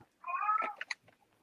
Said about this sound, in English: Someone's cat, okay?